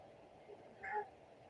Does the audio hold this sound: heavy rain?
no